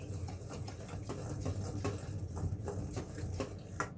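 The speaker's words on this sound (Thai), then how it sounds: "คนแป้งให้เข้ากันก่อน" Flour batter being stirred in a bowl for a Thai sesame-coated sweet, a steady scraping and soft tapping rhythm repeating close by at moderate level, with faint hum underneath.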